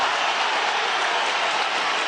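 Boxing crowd at a title fight roaring and cheering to rally their fighter, a dense, steady wash of noise that fills the whole short stretch without a break.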